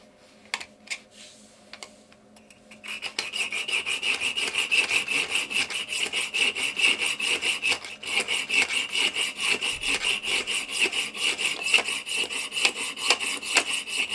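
A hand saw cuts through a small metal screw in steady, even full strokes, a rapid rasping rhythm that starts after a few faint taps and runs close and clear to the end.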